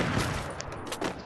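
Sniper rifle shots in a first-person shooter game, a couple of sharp cracks heard amid busy in-game noise and a steady background mix, with no talking.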